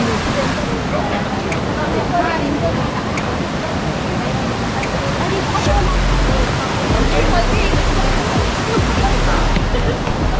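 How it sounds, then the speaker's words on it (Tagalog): Bolinao Falls 2, a waterfall in Pangasinan, roars loud and close as a dense, unbroken rush of water, with voices speaking underneath. "ang Bulinaw Falls 2"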